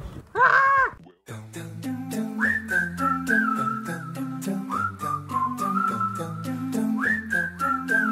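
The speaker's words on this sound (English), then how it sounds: "Can you blow my whistle, baby? Whistle, baby" A pop song playing with a catchy melodic whistle hook repeated over a steady beat, heard clearly and continuously after a brief loud burst at the start.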